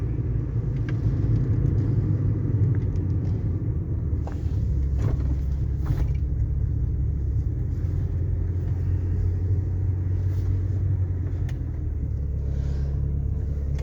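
Low engine rumble from inside a moving Honda Civic 1.6, steady throughout with faint shifts in pitch as the gears change, no voices.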